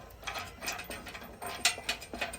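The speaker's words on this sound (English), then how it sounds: "you have a size 19 millimeter hex head bolt and nut, which I don't have a wrench for, so I was just using a socket" A socket ratchet clicks while turning a 19 mm hex-head bolt and nut on a full-width offroad front bumper for a Toyota Tundra, giving a few close, uneven bursts of quick metallic ticks.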